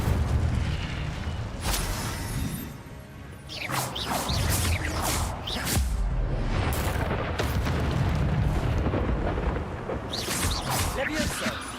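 Repeated booming bursts of the Incendio fire spell in Hogwarts Legacy, loud whooshing blasts coming every second or two over a dense bed of game effects and music.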